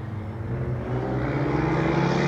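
Steady low rumble of trucks on a road beside a major intersection next to a wooded area, a continuous drone that grows slightly louder, heard from a short distance with no talking.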